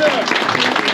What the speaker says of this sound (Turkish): Bir alkış alabilir miyiz?